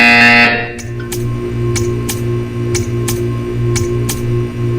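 A loud electronic buzzer opens with a harsh burst, then settles into a steady droning hum with a low pulsing tone, while sharp regular clicks tick through it at roughly half-second intervals.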